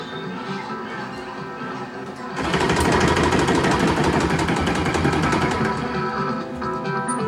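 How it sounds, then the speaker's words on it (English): On a Sega Outrun arcade cabinet, the control panel motor kicks in after about two seconds with a loud, rattling mechanical drone and rapid vibrating thuds that continue steadily, close up over a game's hum. "That motor, man, really takes a beating on the control panel."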